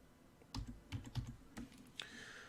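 Keys clicking on a computer keyboard while typing a city name into a search bar, a handful of soft irregular taps close by and quiet, ending with a brief brighter tone.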